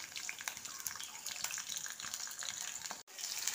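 Ivy gourd being stirred and fried in a pan, a faint, continuous sizzle with small scraping stir sounds and a brief dropout near the end, with no talking.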